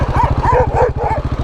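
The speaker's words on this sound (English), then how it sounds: "now we got a dog" A dog barks repeatedly and close by, a rapid series of yelps over steady motorcycle engine noise during a solo adventure ride near a house.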